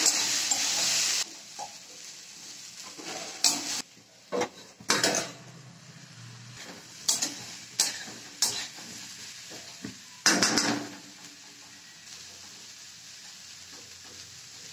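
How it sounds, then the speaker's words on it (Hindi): Potato and cabbage bhujiya fries in a covered pan: a soft sizzle runs underneath while a spoon scrapes and clanks against the pan in irregular stirring bursts, with a lid knock or two. "अब ढक के इसको फ्राई करेंगे, उसे बीच बीच में चलाते रहना है,"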